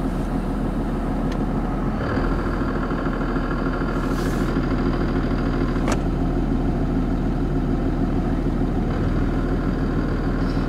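A Cummins diesel pickup truck idles in neutral with the clutch pedal pressed in, its South Bend dual disk clutch adding a steady mechanical rattle over the low, constant engine drone, with a few brief clicks and no talking.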